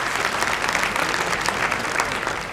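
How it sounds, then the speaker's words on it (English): Sustained audience applause for the performers at a congress opening ceremony, a dense, steady wash of many hands clapping throughout, fairly loud and even with no gaps. "let's give a round of applause again to all the performers"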